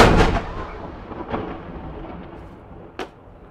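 Edinburgh Castle's daily time gun fires with a loud, booming blast that rolls away in a long echoing decay, followed by a sharper, fainter report a few seconds later.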